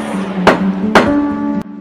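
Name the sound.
judge's gavel striking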